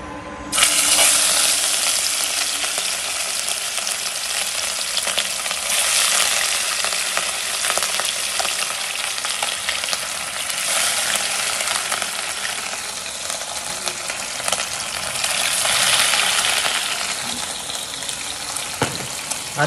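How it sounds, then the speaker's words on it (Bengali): Fish fries in hot mustard oil, a dense, loud hiss and crackle that starts abruptly and sizzles continuously up close for the whole stretch, with no talking. "সর্ষের তেলটা একটু গরম হলে দিয়ে দেবো মাছ"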